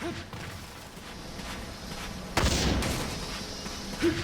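A heavy bowgun in Monster Hunter 3 Ultimate fires pellet ammo: one loud, sharp blast with a short rumbling tail stands out over background game noise, followed by a fainter thump.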